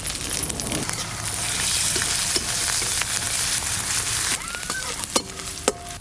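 Panch phoron, bay leaf and dried red chilli spluttering in hot mustard oil, with a dense continuous sizzle, a few metallic clinks of a spoon against the pan near the end.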